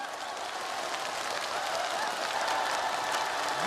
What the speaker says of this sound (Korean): 박수로 청해주세요